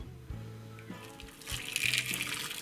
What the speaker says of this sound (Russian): Вот из чайника я заливаю